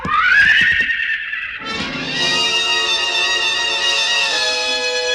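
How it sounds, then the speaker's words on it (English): A loud, close stallion whinny for a radio drama rises into a shrill, quavering neigh, then a second long, wavering whinny holds for several seconds, with a brief lower rumble between them. "The stallion reared high, pawed at the gathering darkness."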